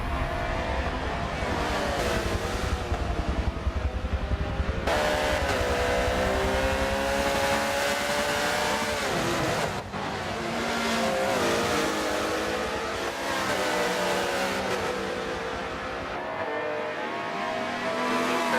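GT race cars, a Porsche and a Ferrari, roar through an endurance race in a racing video game, engines droning and shifting pitch continuously with gear changes throughout, loud and unbroken.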